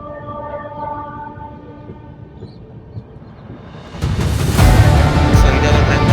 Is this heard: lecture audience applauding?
no